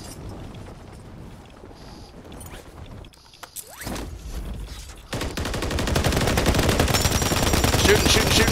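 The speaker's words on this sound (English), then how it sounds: "Shooting." Rapid gunfire from a Call of Duty match, a dense, continuous crackle of shots that grows louder and busier in the second half, with a brief quieter lull partway through.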